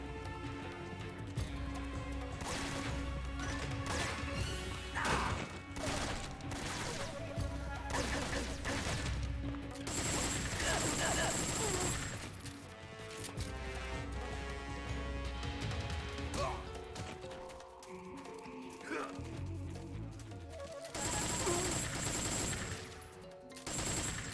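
Gunfire from Metal Gear Solid 3 in dense, rapid bursts with crashing impacts, loud and sustained throughout, no voices present.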